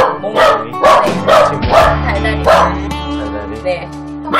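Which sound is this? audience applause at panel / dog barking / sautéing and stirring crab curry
dog barking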